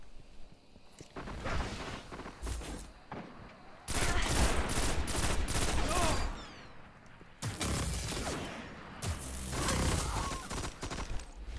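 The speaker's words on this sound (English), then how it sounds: "Oh wow, he sniped me" Gunfire in a first-person shooter match, with sniper rifle shots among bursts of rapid fire that come and go in heavy, loud waves over roughly ten seconds, no voices.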